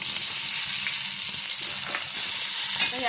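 Onion and capsicum sizzle and fry steadily in a hot pan, a dense continuous crackle with occasional stirring scrapes, loud and close with no talk.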